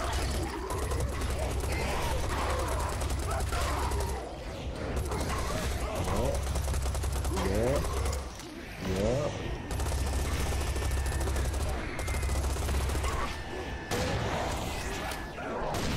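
Continuous rapid gunfire in Serious Sam 4, a dense stream of shots with mechanical clatter and whooshes under a low droning rumble, with people talking over it.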